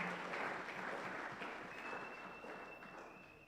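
Church youth conference congregation clapping hands, heard faint and somewhat distant as a soft, continuous patter that slowly fades, with a thin tone faintly running underneath.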